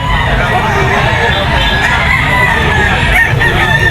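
Gamefowl roosters at the Grotto pet market crow and cluck amid a loud, constant crowd of voices and market bustle. The crowing is layered under the chatter.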